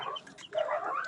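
A hen clucks softly in a fowl yard kept for breeding gamecocks, with low, scattered calls carrying a little distance and no speech over them.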